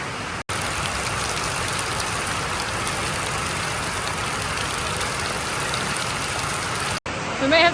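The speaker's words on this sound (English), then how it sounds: "And of course, it's raining once again." Steady rain pours down outside near a flooded house and sawmill, a dense continuous hiss filling the whole stretch with a low rumble beneath, broken by two brief dropouts and a short sound at the end.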